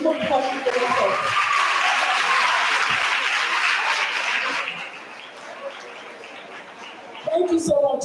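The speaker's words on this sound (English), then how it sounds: "So please, can you clap for Olori before we come to the next?" A crowd bursts into loud, dense clapping for an honoured guest, then the applause tapers off. Voices speak at the start and again at the end.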